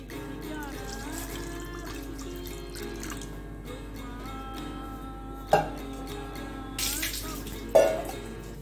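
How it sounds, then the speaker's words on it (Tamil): Water runs steadily into a kadai while mutton blood fry cooks, a continuous trickling pour with a few louder splashes and clinks toward the end. "இப்போது இதில் லைட்டாக வாட்டர் ஆட் பண்ணுறேன்."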